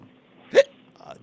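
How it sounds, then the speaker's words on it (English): A single short, sharp hiccup pops out in a quiet courtroom, followed a moment later by a faint, softer vocal sound. "Damn, I got hiccups now."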